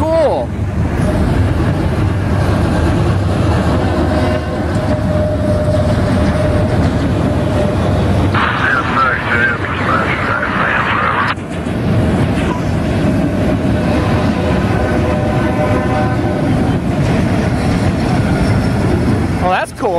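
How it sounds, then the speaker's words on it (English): CSX autorack freight train hauled by one engine passing at close range in Plant City, a loud continuous rumble and rattle of railcars with shifting metallic screeches, voices talking briefly over it. "One engine pulling this autorack train."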